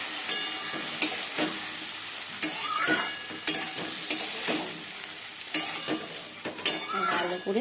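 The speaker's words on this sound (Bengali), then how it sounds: "কষিয়ে নেবো মশলাটা।" Potatoes, tomato and a paste of ginger, green chili, cumin, coriander and turmeric fried in a pan, with a steady sizzle broken by repeated scraping stirs at irregular intervals, close and moderately loud, with a brief spoken phrase.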